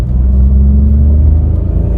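Petrol engine of a Ford EcoSport in second gear, giving a steady, loud low rumble that holds a constant drone with only a slight rev, close and continuous with no talk.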